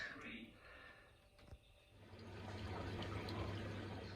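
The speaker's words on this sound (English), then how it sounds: "We've got water going in." A Miele WT2780 washing machine starting a rinse program, water rushing into the drum with a steady low hum that builds after a couple of seconds, close and moderately loud, with a faint click early on.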